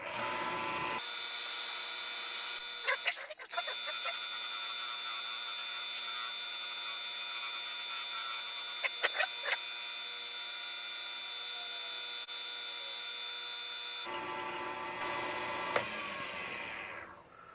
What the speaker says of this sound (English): let's get it all sanded up first